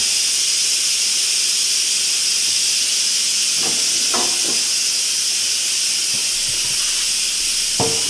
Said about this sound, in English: I'm gonna open this up, and we're just gonna let that steam go.